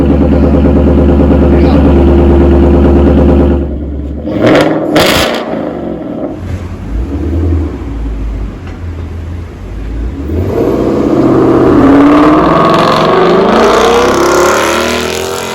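A car fitted with a Corsa axle-back exhaust and a Wengerd Performance tune revs loudly and close by, its deep engine note rising and falling through several throttle blips before settling into a sustained, building roar.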